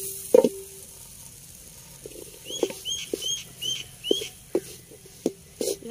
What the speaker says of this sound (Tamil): இன்னைக்கெல்லாம் சட்டி சூடாகட்டும். இப்போ வதக்கிக்கலாம்.